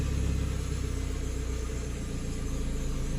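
A Hyundai Matrix 1.6 with an automatic gearbox that hums and won't drive off when the engine is cold, giving a steady low drone close by with no talking.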